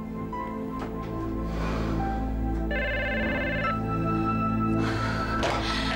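A telephone rings at night, a steady electronic ringtone with a short bright trill in the middle, heard indoors under a low background hum, with no voices.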